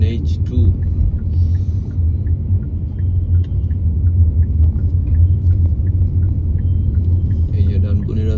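A Hyundai Creta cruises along the NH2 highway near Dankuni, its steady low engine and road rumble droning continuously from start to finish, with a faint regular ticking riding on top throughout.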